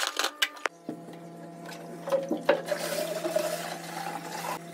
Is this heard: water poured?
yes